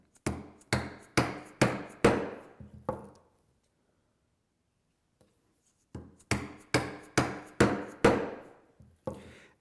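Chopping a mortise by hand in walnut, sharp mallet-on-chisel blows in quick evenly spaced runs of about five or six strikes, a silent gap between the two runs, close and alone.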